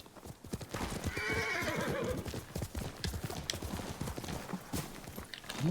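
A horse in the video game Ghost of Tsushima gallops with steady, rapid hoof clip-clops throughout, and a loud whinny rises early on over the hoofbeats, close and unbroken by talk.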